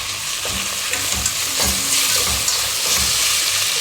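Pieces sautéing in a hot pan, a loud steady sizzle with scraping stirring strokes recurring every half second or so, close up and with no voices.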